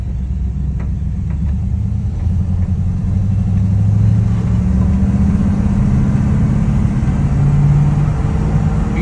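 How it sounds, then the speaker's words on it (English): A 1956 Chevrolet 3100 truck engine rumbles steadily on a test drive along a Kentucky road, a low, continuous, moderately loud drone with slight rises in pitch as it pulls along. "we're going to take this 1956 Chevrolet 3100 for a test drive"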